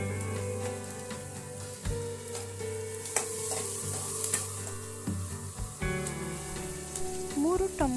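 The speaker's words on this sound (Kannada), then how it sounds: "ಒಂದು ಸಣ್ಣಗೆ ಹಚ್ಚಿದ ಕ್ಯಾಪ್ಸಿಕಮ್ ಹಾಕಿ ಫ್ರೈ ಮಾಡಿ" Finely chopped onion and capsicum frying in a pan for street-style Mumbai pav bhaji, a steady close sizzle with occasional stirring scrapes and clinks.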